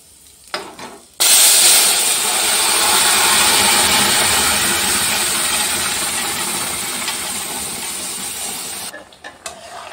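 Vegetable stalks and spices drop into hot oil, setting off a loud, close, continuous sizzle that holds for about eight seconds before it cuts away to quiet kitchen sounds.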